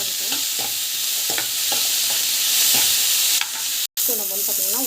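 Ingredients sauté in a hot pan with a constant sizzle and repeated spatula strokes, close by; the sound cuts out for an instant near the end before resuming.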